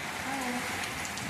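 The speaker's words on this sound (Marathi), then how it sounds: "बघा आता मस्त गावाकडला पाऊस" Rain falls on a village, a continuous broadband hiss of drops on the ground and surfaces, steady and close over a short stretch, with no clear talking over it.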